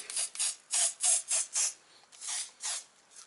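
Hairspray hisses from an aerosol can into a Yamaha dual-sport motorcycle handlebar grip in several short, bright bursts, about eight quick sprays with a gap midway, close and fairly loud with no talk.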